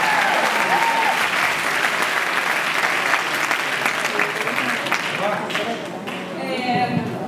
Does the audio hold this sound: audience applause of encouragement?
yes